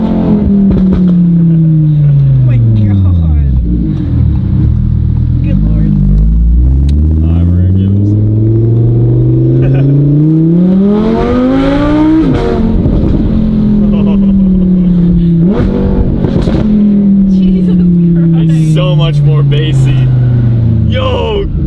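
Audi R8 fitted with a full titanium race exhaust revs loudly and repeatedly, its pitch sweeping up and down through several long rises and falls, with people talking over it.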